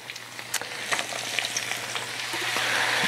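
Sliced green tomatoes, raw corn and garlic fry in a skillet with a steady crackling sizzle that swells toward the end, plus a few light clicks of stirring. No voices are heard.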